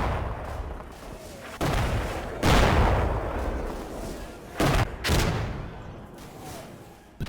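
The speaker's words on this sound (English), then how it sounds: "a perfectly timed German mortar barrage comes in" German mortar barrage in a war video game: a series of loud, booming impacts and blasts, several heavy bursts spaced over several seconds against a rumbling battlefield background.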